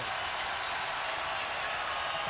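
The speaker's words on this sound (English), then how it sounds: "crowd revved up even more so." A basketball arena crowd at Virginia at Maryland roars for Virginia's Des Wells after a hustle play, a dense, loud, unbroken wall of cheering and noise filling the whole moment.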